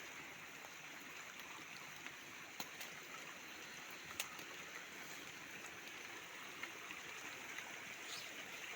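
Small streams trickling through a dense, rainy Papua rainforest, a faint continuous wash of flowing water with occasional soft ticks and clicks, distant and low.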